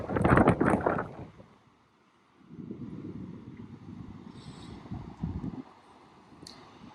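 Gusty wind and rushing river water on the Mississippi River at Almonte, Ontario, beside a riverwalk trail; a loud wind buffet at first, then a steady broadband rush of water with swelling gusts, no talking.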